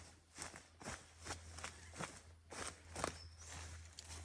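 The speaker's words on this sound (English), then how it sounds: "Give it a wee stomp down." Soft, repeated stomping on chopped pigeon pea and support-species plant material spread over a food forest bed, a steady series of muffled thuds close by with no talking.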